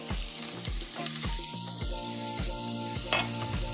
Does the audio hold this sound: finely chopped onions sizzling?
yes